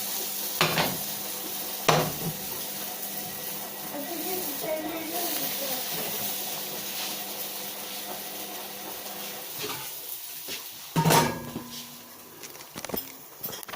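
A potato omelette fries in a pan, giving a soft steady sizzle with a few sharp scraping and clattering knocks of utensil and pan scattered through, and a voice talking briefly.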